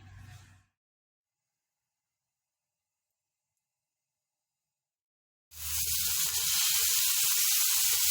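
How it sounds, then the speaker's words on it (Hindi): Ginger garlic paste frying in hot oil for chicken karahi: near-silence, then a loud, steady sizzling hiss bursts in and keeps going to the end. "अदरक और लहसुन के पेस्ट को 2 मिनट के लिए इसमें भूनना है."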